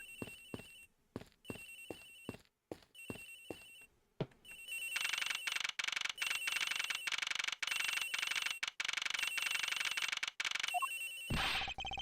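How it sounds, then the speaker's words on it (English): A cell phone rings inside the Ace Attorney video game, first as short repeated electronic trills with gaps and then as one long continuous ring that stops abruptly near the end. It is loud and clear, with no talking. "The ringing's coming from somewhere in here"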